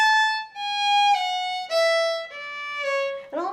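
A fiddle plays a quick descending jig run of bowed notes, down bow then up-bow slurs, bright and solo, ending on a brief rough scrape.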